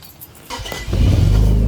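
Infiniti Q50 fitted with an ARK Grip aftermarket exhaust, the engine cranking and catching, then swelling into a loud, close, sustained rev after some quieter handling noise.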